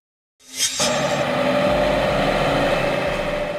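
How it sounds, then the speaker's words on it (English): A tractor engine starts after a brief silence, then settles into a steady, close, rumbling idle with a low throb and a humming tone. "Tractors are typically used in agriculture or construction to tow or transport heavy equipment."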